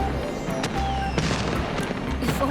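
A low-heat firework pops and crackles in a short burst of sharp bangs and sizzling sparks over a low rumble, close and loud.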